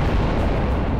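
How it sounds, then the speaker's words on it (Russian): A large bomb explosion in the video game Garry's Mod: a loud, thick roaring rumble that fills the whole moment without letting up. "Давайте посмотрим на этот взрыв."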